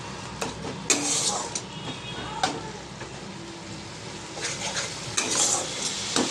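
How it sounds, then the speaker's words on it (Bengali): Spices with a splash of water being stir-fried in a pan for an egg curry, a steady close sizzle broken by irregular scraping clinks of a utensil against the pan. "এবার এগুলোকে দিয়ে আমি কষাতে থাকবো"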